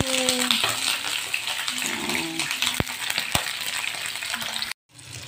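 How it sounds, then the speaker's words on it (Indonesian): Chili sambal for sambal terasi frying in a pan, a steady loud sizzle and crackle with a few sharp pops, cutting off abruptly near the end before resuming more quietly. "Ini sambalnya udah digoreng"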